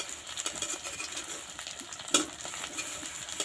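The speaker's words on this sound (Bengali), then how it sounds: "এটা একটু সোনালি কালার করে ভাজবো" Homemade papaya paneer, made without milk, sizzles in a frying pan with a soft, steady crackle and a few brief spatters and stirring clinks close by.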